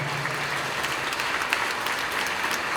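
An audience at a Tamil stage talk claps, a short dense burst of steady applause filling the hall at moderate volume.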